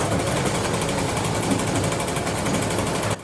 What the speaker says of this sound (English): Now that this bike is running and idling